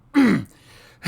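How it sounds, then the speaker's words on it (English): A single short, rough throat clearing from a person recovering from long COVID. It is close and fairly loud, followed by a quiet pause and a faint breath at the end. "COVID's made me clear my throat a whole lot for a long time"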